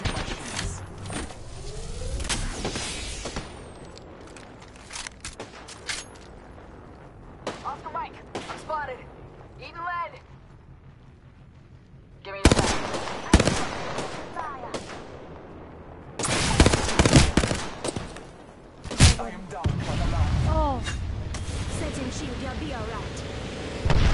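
Video game gunfire in a combat shooter, loud bursts and rapid volleys coming in clusters with quieter gaps between them, while players talk and call out over the shooting.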